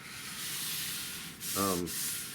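Sandpaper rubbing over the wooden stock of a Winchester 1876 rifle, a quiet steady scratchy hiss for most of the clip, with a brief tonal squeak near the end.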